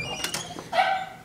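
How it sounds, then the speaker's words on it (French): A dog close by gives a couple of short yips, then a longer high whimpering whine that fades out, indoors. "Ta gueule, le chien."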